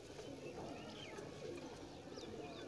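Breeder pigeon cooing softly in a loft, low rumbling coos and faint chirps continuing steadily over a noisy background.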